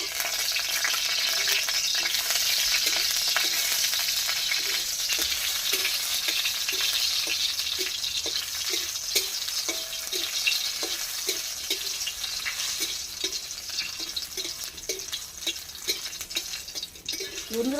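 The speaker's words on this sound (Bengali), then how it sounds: "লঙ্কাগুলো একটু ভেজে নিই" Chillies fry in hot oil in a home kitchen pan with a steady, close sizzle, and a regular ticking of spattering oil or stirring runs underneath the whole time.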